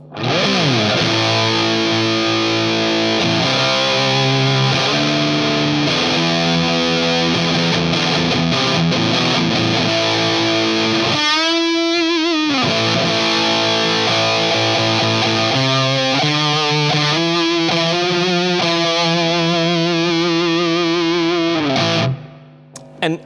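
An electric guitar through a vintage Sola Sound Tone Bender fuzz pedal plays sustained, buzzy notes and slides, thick and loud with a gnarly distorted edge, continuous throughout.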